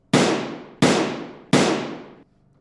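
Three loud, sharp gunshots fired in quick succession for a radio drama sound effect, each crack followed by a long decaying echo, the shots evenly spaced about three quarters of a second apart with no talking.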